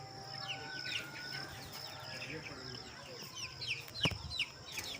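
One-month-old Indonesian breed chicks give many rapid high chirps and peeps, close and fairly faint, with some clucking and a sharp thump near the end. Outdoor breeze noise runs underneath, and a voice talks at times.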